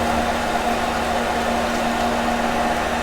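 A ventilation fan blows a steady, loud stream of air with a constant low hum across a home chemistry workspace where xylene and toluene mixtures give off fumes; the tone holds unchanged throughout, with no voices.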